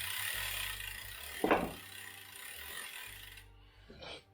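A quiet mechanical ticking and clicking, like a bike freewheel ratchet spinning, with a sharper burst of clicks partway through over a low background hum.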